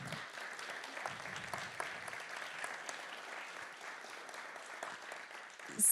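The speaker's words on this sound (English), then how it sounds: "So I'd like to give them a little clap for all their work." An audience claps for the writers at a screen and script event, a steady patter of many hands at moderate distance lasting several seconds before a louder swell at the end.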